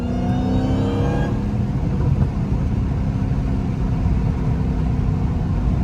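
A Dodge Challenger Hellcat Redeye Widebody (Dragpack) with a Muffet delete exhaust, loud and close, with a steady low engine drone and a brief rising rev at the start, heard from inside the car.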